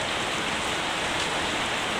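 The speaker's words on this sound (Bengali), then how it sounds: "যাক বৃষ্টি শুরু হয়ে গেছে" Steady rain falling on an evening in the monsoon season, a dense, even hiss that holds without a break, with no voices.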